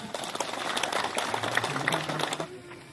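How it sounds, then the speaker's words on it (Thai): Scattered clapping from a small crowd at a military cross-country running competition rattles steadily for a few seconds, then tapers off. "ขอเสียงปรบมือหนึ่งครั้งนะครับ"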